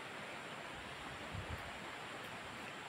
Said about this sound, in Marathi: पाण्याचा आवाज येतो का. पाणी पडते खाली